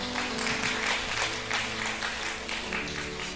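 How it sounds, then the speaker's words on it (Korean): A church congregation at a Korean Sunday afternoon service applauds a deaconess after her testimony, steady crowded clapping with some rhythmic surges over a soft sustained instrumental tone. "다시 한번 간증으로 하나님께 영광 돌리신 김현숙 집사님께 박수해 주시겠습니다."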